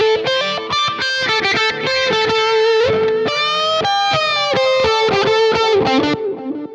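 Heavily distorted lead electric guitar through a modified Supersonic Burn amp patch in Fender Studio Pro, loud and upfront, playing fast picked phrases with sustained bent notes in a heavier section, without speech.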